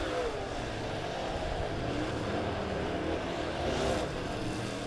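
Race cars roar steadily around the quick quarter-mile Springfield Raceway oval during a Cash Money Series heat race, with a continuous loud engine drone and a brief swell as a car passes close near the end.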